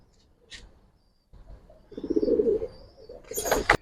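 A Giribaz pigeon gives a short, soft cooing burst up close in a quiet room, with a faint chirp before it and a brief rustle at the end.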